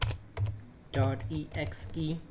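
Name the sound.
typing a command on a computer keyboard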